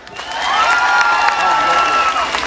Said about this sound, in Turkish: bir de kendinizi alkışlayın